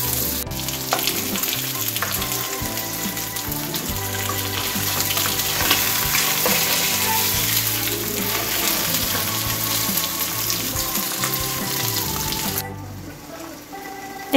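Pearl spot fish shallow frying on a low flame under a lid, a loud, even, crackling sizzle that runs on close by and drops away sharply near the end; no voices.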